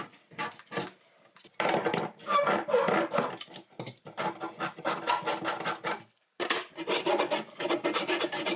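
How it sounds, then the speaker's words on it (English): A saw rasps back and forth through a kitchen sink drain pipe under a cabinet, in rough, loud bursts of strokes with brief pauses, close up and with no talk. "I'll be cutting the drain line where it enters the base of the cabinet"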